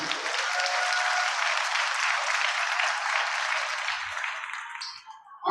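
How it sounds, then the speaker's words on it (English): An audience at a Maple Heights City Schools Pathfinders 2024 event gives a round of applause for a speaker's wife, dense steady clapping that holds for about five seconds and then thins out and fades. "so let's give her a round of applause."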